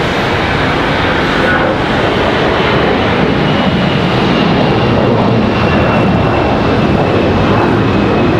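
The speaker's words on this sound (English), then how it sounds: "Next departure is going to be American Airlines off to Pittsburgh, Pennsylvania, an A321." An American Airlines Airbus A321 departs Charlotte Douglas for Pittsburgh, its jet engines roaring loud and close in a continuous, dense rumble with a thin high whine running through it.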